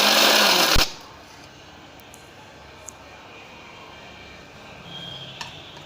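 Blender whirring loudly as it crushes ice pieces for a milkshake, a dense roaring burst for under a second that cuts off abruptly, leaving quiet room tone.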